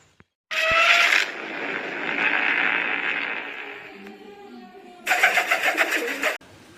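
Racing pigeons are handled up close, with bursts of wing flapping at the start and end and a rustling, breathy stretch in between; no one speaks.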